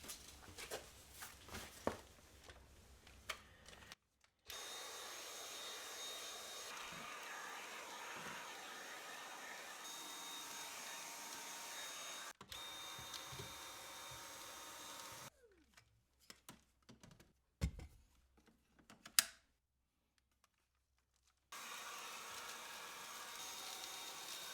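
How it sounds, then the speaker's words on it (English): A vacuum runs over car floor mats crusted with road salt and grime, a steady broadband whoosh in long stretches that cuts off abruptly between passes, with scattered thumps and clatter in the gaps. "With all the salt and grime on the car mats, you want to shake it out first, but sometimes you can't, so you just gotta vacuum it"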